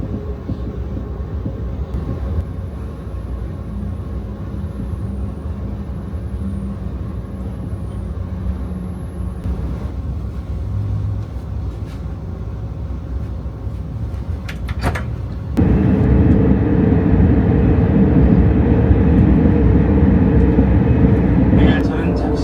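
A KTX/SRT high-speed train runs in a test ride, heard from inside the carriage as a loud, steady low rumble and hum that grows heavier partway through, with brief clunks and faint chimes.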